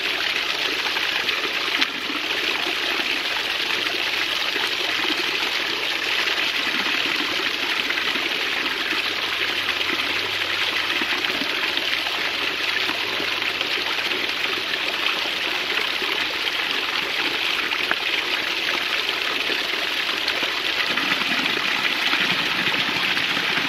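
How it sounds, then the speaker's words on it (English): Creek water runs steadily past a rock placed in a small channel for a micro hydro flow test, a continuous close, full-bodied rushing and gurgling with no voices. "I want to see if simply putting a rock here would move this water over enough that I can have a steady stream"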